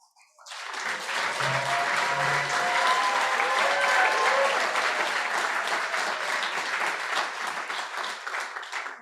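An audience at a scholarship awards ceremony breaks into loud, sustained applause that rises quickly and holds steady for several seconds, dense clapping filling the room.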